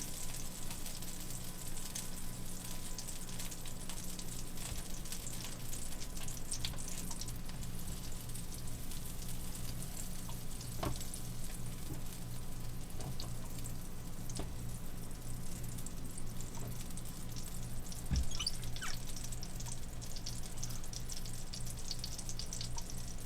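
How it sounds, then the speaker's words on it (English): Butter melting in a pan gives a steady, quiet sizzle with faint crackles throughout, no one talking. "Butter's in the pan, nice and melty"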